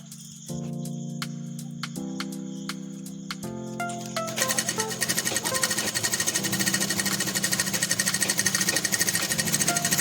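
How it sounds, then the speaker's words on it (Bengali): Sewing machine stitching a pillow cover, starting with a few separate slow stitches and then running steadily in a fast, even rhythmic whir. The machine is close and clear, with no talking. "এইভাবে এটা সেলাই করে নেব।"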